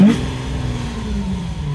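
A first-generation Lamborghini Aventador supercar engine roars into life, a loud, close, continuous rumble with a brief rising rev at the start that settles into a steady, throbbing idle.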